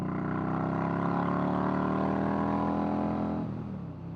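An Indian Scout Bobber motorcycle engine revs up with a steadily climbing, loud, close drone that swells for about three seconds before the pitch drops back and eases off.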